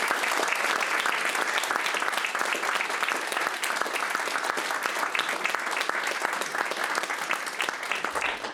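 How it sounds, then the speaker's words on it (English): Sustained applause from an audience at a ceremony, a dense, even wash of many hands clapping that holds steady and fairly loud throughout, with no talking over it. "So this gentleman here needs a round of applause."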